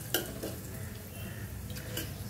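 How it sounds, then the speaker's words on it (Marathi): Ingredients stir-fried in a pan: a soft, steady sizzle with faint scraping and a few light clinks of a utensil against the pan, heard fairly close and quiet. "आता छान परतू आपण"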